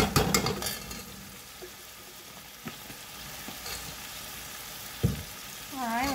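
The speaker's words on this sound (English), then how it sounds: "All right, we're gonna stir it some more." Tomato paste sauce for Haitian spaghetti sizzles and fries in a pot while a spoon stirs it, giving a steady close crackle with a few sharper scrapes and clinks.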